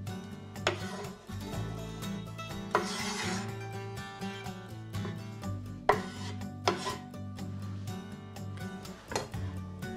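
A knife slices an onion into half-moons on a cutting board, with steady close chopping taps and scraping strokes in an irregular rhythm over faint background music.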